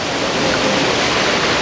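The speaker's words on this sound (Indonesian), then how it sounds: "itu ada air terjun kecil banget itu di belakang" A small waterfall at the Semeru Pronojiwo site in Lumajang gives a steady, close, loud broadband rush of falling water without pause or talk.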